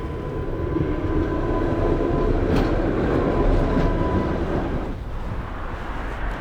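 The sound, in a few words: tram passing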